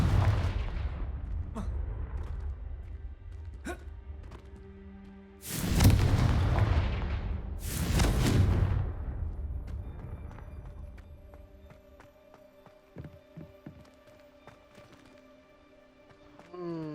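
Confringo spell blasts in the video game Hogwarts Legacy, two heavy booming explosions a couple of seconds apart over a low rumbling background, followed by fading debris and quieter ambient game sounds.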